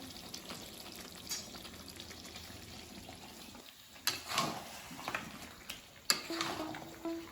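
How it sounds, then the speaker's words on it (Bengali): Mutton chops in yogurt sizzling and bubbling steadily in a pan, with a few louder stirring scrapes and clatters toward the end. "এই চিকেন ইয়া মাটন চাপ ফুটছে"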